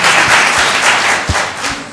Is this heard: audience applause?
yes